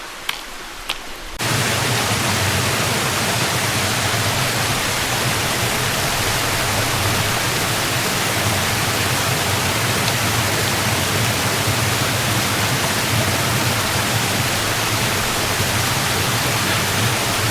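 A mountain stream near Heart Lake in Sitka, Alaska, pours steadily down toward the lake, making a loud, close, unbroken roar of rushing water that starts abruptly after a brief quiet opening.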